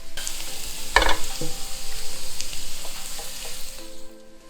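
Garlic fries in oil in a pan, a steady close sizzle with a brief louder crackle near the start and soft scraping as it is stirred.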